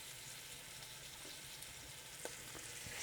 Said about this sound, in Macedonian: Не треба многу да се пржат, зашто месото ќе си се готви долго време.